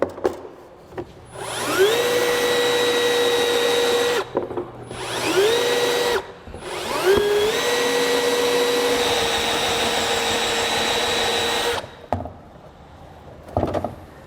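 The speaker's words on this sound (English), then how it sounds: "We're going to drill this out to around 7/8 to an inch diameter" Step drill bit boring a 7/8 to one inch hole through the body of a 2016 Jeep Wrangler, three loud whining runs with rising pitch as the bit steps up, separated by short pauses, ending with a few faint clicks.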